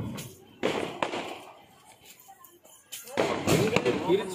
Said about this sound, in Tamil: இது கடைசி பட்டாசு.